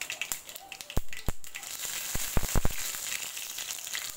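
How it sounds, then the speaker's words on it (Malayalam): Fenugreek seeds sizzle quietly in hot coconut oil, giving a soft hiss broken by scattered sharp pops and crackles. "വെളിച്ചെണ്ണ ചൂടായിട്ടുണ്ട്, അതിലേക്ക് നമുക്ക് കടുക് ഇട്ട് കൊടുക്കാം."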